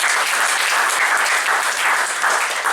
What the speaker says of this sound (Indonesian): Ya, tepuk tangan buat leader kalian.